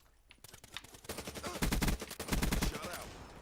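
Video game gunfire through an Astro A40 headset builds from a few scattered shots into dense, loud automatic bursts, two heavy volleys close together near the end.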